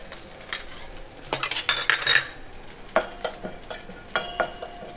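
Ginger garlic is added to cumin roasting dry in a pan and stirred, giving crisp sizzling with a rattle of metal utensil scrapes and clinks in quick irregular bursts, close and fairly loud.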